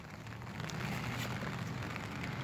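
Steady rain falls during an outdoor address, a faint, even hiss of drops that continues unbroken with no voices.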